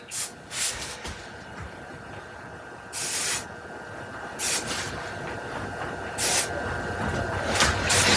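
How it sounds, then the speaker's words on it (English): Working hairspray misted up underneath lifted hair to add volume and hold, several short close aerosol hisses spaced apart, each lasting under a second. "I can kind of lift up, spray that working hairspray up underneath"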